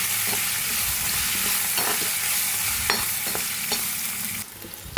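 Green chillies fry with browned urad dal in hot oil, making a loud steady sizzle broken by spatula scrapes and stirring knocks, then a brief quieter moment near the end.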